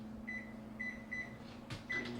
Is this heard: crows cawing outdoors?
no